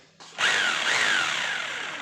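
An electric hammer drill with rotary, steel and masonry-impact modes, just repaired after failing to start, spins up sharply and runs with a steady high whine, loud and close, with no talk.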